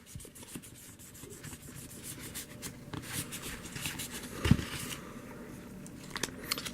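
A cloth rubs polish onto the plastic canopy of a GI Joe Skystriker toy jet. The soft, continuous scrubbing strokes are heard up close, with one sharper bump partway through.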